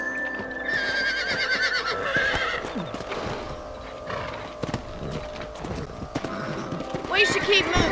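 Horses in the Red Dead Redemption video game whinny shrilly and their hooves clip-clop steadily on the ground, close and clear. Game music and characters speaking run alongside.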